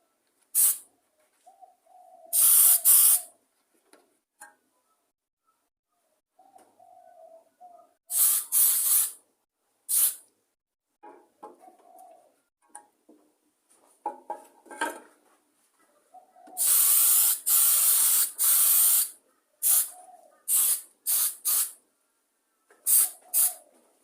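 Spray paint hisses in repeated bursts of varied length over old lawn mower parts such as a fuel tank and carburettors, with quiet gaps and faint clinks between the sprays.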